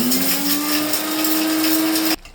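A mixer grinder whirs steadily as it grinds coriander seeds, cloves, cinnamon, cardamom, cumin and dry coconut pieces into masala powder, loud and close, then cuts off abruptly.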